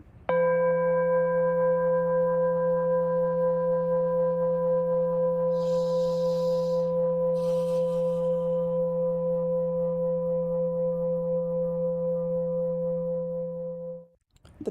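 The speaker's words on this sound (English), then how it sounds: "The bell invites us to close the eyes" A single meditation bell struck to open a group sitting, ringing with a steady sustained tone that decays slowly over about fourteen seconds, with a faint brief rustle partway through and no talking.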